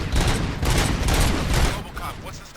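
Rapid bursts of gunfire from the Robocop Rogue City video game, a loud dense fusillade of overlapping shots for about two seconds before easing off.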